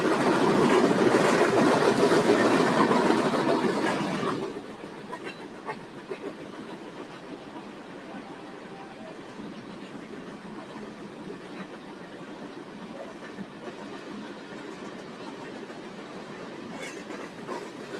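A Union Pacific train passes on a triple-track mainline at North Platte, loud and rumbling for the first few seconds before cutting to a quieter, steady rolling hum of cars clattering along the rails.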